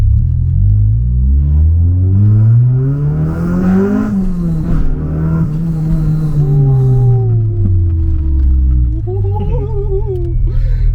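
Honda Civic EG with a B18C Type R engine driving along, its loud close engine note rising through the revs, dropping at a shift and climbing again, then easing off while a higher whine joins near the end.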